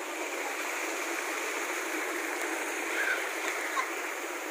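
A waterfall at Ipo Dam gives off a steady, full rush of falling water that fills the scene without pause.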